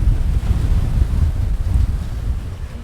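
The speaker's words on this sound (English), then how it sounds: "I can attest it's very windy today" Strong wind roars and buffets the microphone in a steady low rumble at a cruise port, with heavy waves surging against a ship, loud and continuous without any talk.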